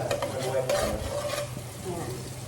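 Butter sizzling and frying in a pan, a steady hiss with stirring scrapes, close and continuous.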